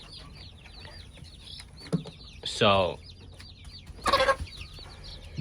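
Backyard naked neck chickens cluck in the coop in a few short, close bursts over faint chirping, with a brief spoken word.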